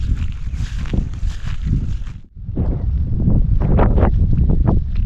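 Strong wind buffets the microphone in loud, gusty rushes, briefly dropping off before roaring back.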